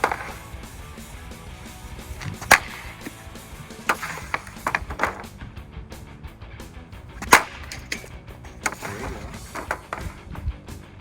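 Hockey pucks struck off a stick during shooting practice: several sharp cracking slaps at irregular intervals, with softer taps and scrapes of the blade between them, close to the mic with no talk.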